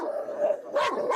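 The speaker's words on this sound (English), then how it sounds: "Are they mean dogs?" Dogs bark a few times close by, loud sharp yips over a steady background hum, with two or three quick barks in about a second.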